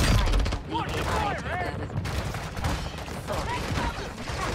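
Gunfire in the Call of Duty DMZ video game, with bursts of rapid automatic shots and scattered impacts running through the whole stretch over a busy, noisy game mix.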